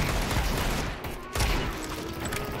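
Rapid gunfire in Counter-Strike 2, a dense, loud burst of shots with a brief dip in the middle before the firing resumes, with no talk over it.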